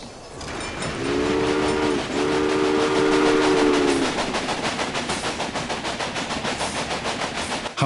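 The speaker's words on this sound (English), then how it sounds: "Now you can see the journey your train will take." A steam train in the video game Railway Empire rumbles along with a rhythmic chugging that speeds up into fast, regular puffs, while a two-tone whistle sounds briefly near the start.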